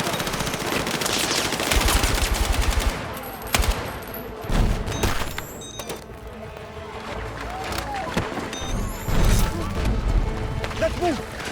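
Bursts of automatic gunfire and scattered shots crackle through a Battlefield 6 match, loud rapid rattles broken by pauses, with distant battle noise and in-game voices shouting over the action.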